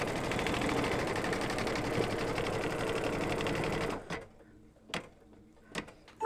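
A sewing machine stitching a mug rug runs steadily and close for about four seconds, then stops, followed by a few light clicks and handling knocks.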